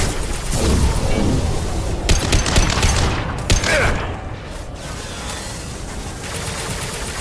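An impact shot ability fires in a video game, bursting into a dense, loud volley of booming, gunfire-like blasts layered over sustained combat noise, with sharp hits clustering near the middle before the din eases off slightly.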